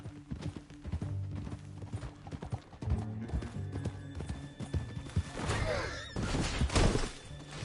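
Horse hooves gallop in Red Dead Redemption 2, rapid rhythmic thudding clip-clop close by, with a whinny and rattling bursts of gunfire-like cracks mixed in near the end.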